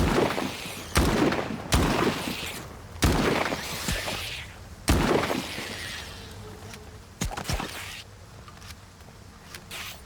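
Gunfire in the video game S.T.A.L.K.E.R. 2 aimed at a swarm of rats, loud sharp shots in an irregular series of about six, each followed by a booming decay, with quieter gaps between bursts.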